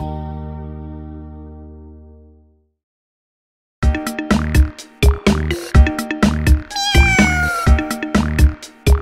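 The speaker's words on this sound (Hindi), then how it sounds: "बिल्ली मौसी कहो कहां से आई हो" Cat meowing in a Hindi nursery rhyme: a long sustained tone fades out, then after a short silence a series of loud, close, repeated meows arrives in quick rhythmic succession, some stretched and wavering.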